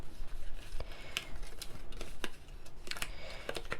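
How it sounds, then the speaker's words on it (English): Scissors snip through paper tabs for a Valentine candy craft, a series of short, crisp cuts at uneven intervals close to the microphone, with no voices. "you're going to cut all of these tabs out"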